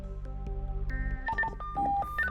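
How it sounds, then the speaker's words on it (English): An Amazon Basics FRS two-way radio plays its call ringtone, a sequence of clear electronic beeps stepping through different pitches, close and loud with no talk. "Your call ringtones."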